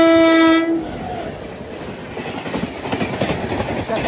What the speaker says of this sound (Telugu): ఇటు నుంచో ట్రైన్ వస్తుంది